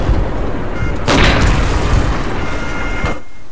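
A heavy explosion booms in a World War II shooter game during a battle at a bridge, a loud, dense roar that swells and then slowly fades over a few seconds, with no talking.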